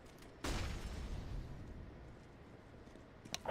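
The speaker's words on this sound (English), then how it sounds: "Deploying flashbang." A flashbang grenade detonates in the shooter game CS:GO with one sudden loud bang that trails into a fading rumble, followed by quiet background noise and a faint click near the end.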